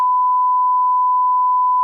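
A single steady censor bleep is loud and unbroken for about two seconds, covering a dentist office's name, with nothing else audible.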